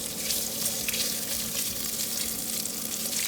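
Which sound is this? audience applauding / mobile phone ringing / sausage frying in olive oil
sausage frying in olive oil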